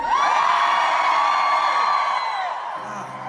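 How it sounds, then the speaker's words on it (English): Sustained high screaming or yelling from people outside, loud and continuous for about two and a half seconds before trailing off. "I heard some screaming that like didn't sound. It sounded like you were in pain."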